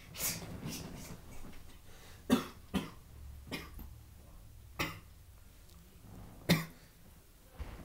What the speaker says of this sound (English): I was just laughing too much that I just coughed